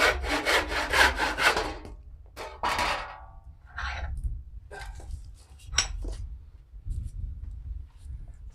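A handsaw cuts through the tops of a natural wood fork slingshot blank, first in quick rhythmic strokes, then in shorter bursts separated by pauses, close and fairly loud.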